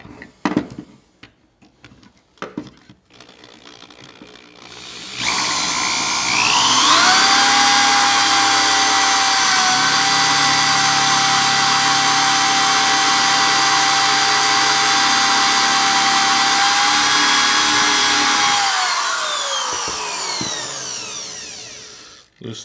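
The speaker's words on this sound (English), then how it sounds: "And drill it out." A power drill in a dowel jig spins up and bores steadily into wood for about thirteen seconds, whining high and loud before winding down, with faint shuffling around it.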